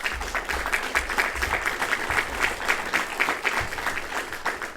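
A debate audience applauds steadily, a dense, even patter of many hands heard from across the room, lasting the whole stretch without a break.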